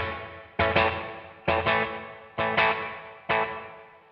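An electric guitar run through a NUX Trident with digital reverb plays four evenly spaced struck chords, each ringing out and decaying into a reverberant tail.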